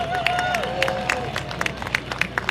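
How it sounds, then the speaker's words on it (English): Crowd at an outdoor tug of war event at Manasquan Inlet claps, with scattered sharp hand claps standing out over a murmur of voices and a brief whistle-like tone early on. "Let's give a big round of applause for Make-A-Wish"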